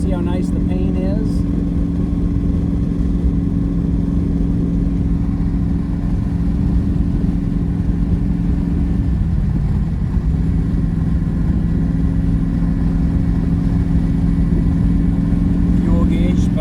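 A 1965 Ford Mustang with a 289 V8 and automatic transmission cruises down the road, its engine a steady, loud drone throughout with a brief dip midway, under a voice talking.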